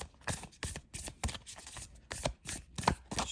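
A deck of thick-stock oracle cards is riffle-shuffled several times in quick bursts, each a crisp, close flutter of snapping card edges with short pauses between.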